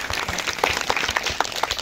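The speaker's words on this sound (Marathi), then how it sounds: "सर्वांनी जोरदार एकदा टाळ्या वाजवायच्या" A short burst of audience applause at a World Ozone Day gathering, dense, steady clapping from many hands throughout.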